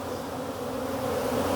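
Bees buzz steadily around a beehive at one of three hives kept together, a dense continuous hum that stays loud and close with no voices over it.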